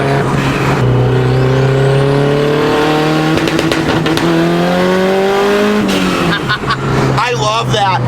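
A turbocharged Honda D16 engine with ignition cut revs hard and loud, its rising and falling tone broken by a burst of sharp pops and crackles, with people talking over it.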